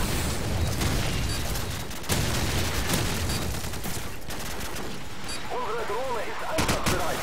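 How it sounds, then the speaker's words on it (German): A grenade blast and rattling gunfire from Call of Duty 4 multiplayer fill the clip with continuous loud crackling bursts and booms. A short warbling tone rises near the end. "Ja, Granate mal hingeschmeißen."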